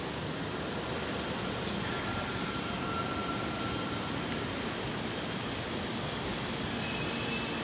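A moving train heard from inside a carriage in Taiwan gives a steady, broadband rumble with no talk, and a faint squeal cuts through briefly.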